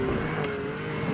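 A 2017 Ford F-150 Raptor drives fast off-road on dirt, its engine a steady close roar with a sustained tone, loud and continuous throughout the brief moment.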